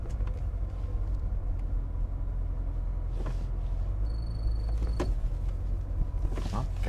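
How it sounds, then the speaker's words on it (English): A 1984 Porsche 928S engine idles smoothly at about 600 RPM, a steady low rumble heard from inside the car, with a few faint clicks and small interior noises over it. "It idles smoothly. It's just about 600 RPM at idle."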